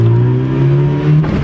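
A 1998 Nissan Almera SI engine pulls hard under acceleration, its steady droning harmonics rising slightly in pitch as it climbs. The sound is loud and close, with no talking.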